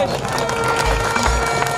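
A crowd at a cricket league closing ceremony claps loudly for a guest, a steady wash of applause that runs the whole time under an amplified voice.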